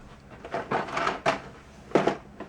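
Wooden drawers of craft punches in a crafting studio slide open and shut several times in quick succession, close by, with scraping and soft knocks.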